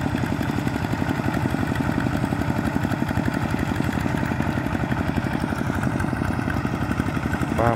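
Paired tractors working a flooded rice field before summer-autumn sowing, a steady chugging engine drone at moderate distance with a faint clattering rhythm, no voices.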